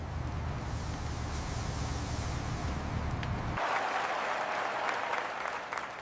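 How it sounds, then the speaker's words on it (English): Steady applause from a crowd, continuous and dense throughout, shifting to a brighter, crisper clapping partway through. "Let us give a big round of applause for them."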